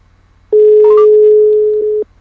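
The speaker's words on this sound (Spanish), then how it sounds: "Ahí está llamando." Mobile phone ringback tone while a call is being placed: one steady, loud electronic tone lasting about a second and a half, with a brief higher chirp near its start, then silence.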